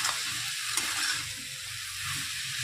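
Onion stalks and potato sautéing in a pan over high heat, a steady moderate sizzle with soft stirring underneath, brief and without talk.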